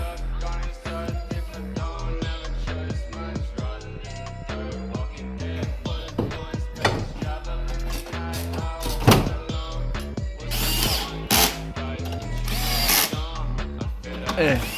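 A power drill drives screws into the shock absorber mounts of a BMW, close and loud, in repeated bursts of whirring and ratcheting with pauses, plus clanks of metal handling and voices talking in between.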